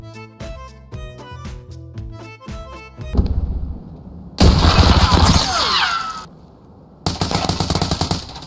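Gunfire in the video game Escape From Tarkov cracks out in loud rapid bursts, mixed with other game sounds and pauses between volleys.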